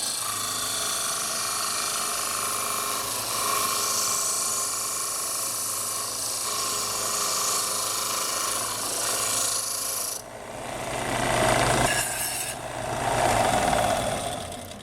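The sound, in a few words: trimming wood off the end of a wooden flute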